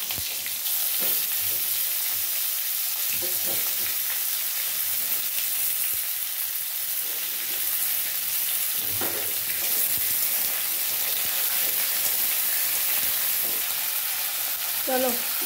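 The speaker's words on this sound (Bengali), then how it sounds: "চলো এটা আমার ভাজা হোক হালকা হালকা করে।" Cut pumpkin and potato fry gently in hot oil tempered with panch phoron and a torn dried red chilli. A steady, close sizzle runs throughout, with occasional stirring scrapes and no speech.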